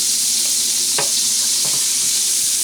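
Garlic and onion sizzle in a hot pan with a steady, dense hiss, broken by a couple of short scraping stirs; close and continuous, no talking.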